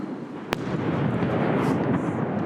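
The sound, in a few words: missile explosion in Ukraine during news report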